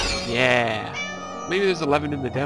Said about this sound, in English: it's actually making kitty-cat noises